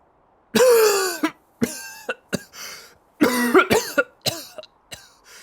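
A video game character in Chaos;Head Noah coughs in several harsh, rasping bursts with short gaps between them, close and loud, with no talking.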